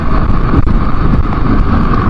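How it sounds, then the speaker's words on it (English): Gusty wind roaring and buffeting past a motorcycle helmet while riding a KLX 300, a loud, constant broadband rush close to the ear with slight fluctuations in strength. "Hear the wind whistling through my helmet."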